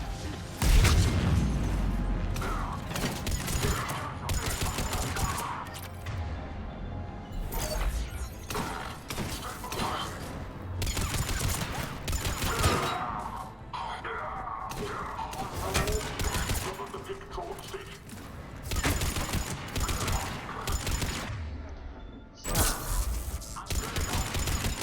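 Gunfire rattles almost nonstop through a defense battle in the video game Mass Effect 3, dense bursts of shots and booms with mechanical clanks, and voices talk over the fighting.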